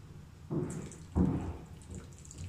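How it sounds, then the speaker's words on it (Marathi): Hot water poured into a pot of vegetable kurma, two short splashy pours with a softer trickle after, close and fairly quiet, with no talk. "मी अजून थोडस पाणी घालते"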